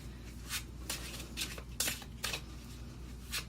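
A deck of tarot cards is shuffled nearby with soft, quick riffling swishes in short bursts over a quiet background.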